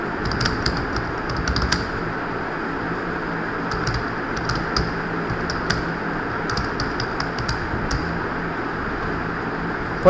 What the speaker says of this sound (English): I am typing it out for you.